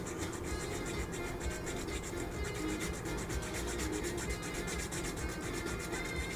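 Plastic carburetor mount on a Revell Ford D-100 "Foose" scale model kit being shaved flat, heard as steady, rapid back-and-forth scraping strokes that rasp close up and continuously throughout, with no talking.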